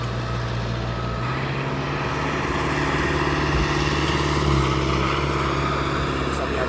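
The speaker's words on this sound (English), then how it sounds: "So we have a DHL also on his taxi up towards us." A DHL cargo aircraft taxiing at East Midlands Airport, heard as a steady engine drone with a persistent low hum that grows slightly louder midway.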